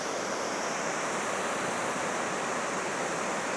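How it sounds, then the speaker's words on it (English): Water pours down a small cascade in a Kentucky town, a steady, dense rushing hiss that stays constant and close with no other sounds. "And then there's the water flowing right there."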